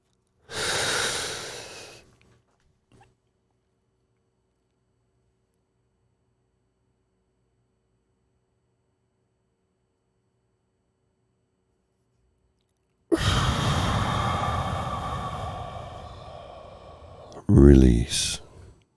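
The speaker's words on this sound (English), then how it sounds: "take another deep cleansing breath" A deep cleansing breath taken during a calm relaxation exercise: a soft breath at the start, a long pause of silence, then a slow drawn-out exhale with a brief snort-like sound at the end, close and intimate.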